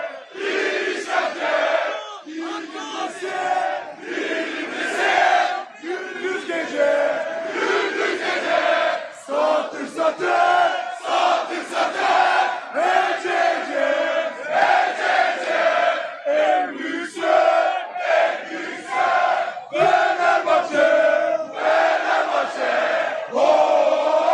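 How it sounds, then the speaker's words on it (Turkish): Fenerbahçe basketball fans chanting on Bağdat Avenue while celebrating a EuroLeague championship: a loud, massed crowd of voices in rhythmic, pulsing chants that run without a break. "Karşılıklı tezahüratlar Bağdat Caddesi'nde yapılıyor."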